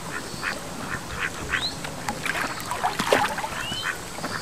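Video game duck in Rival Stars Horse Racing quacks repeatedly over a steady outdoor ambient bed, several short nasal calls scattered across the stretch.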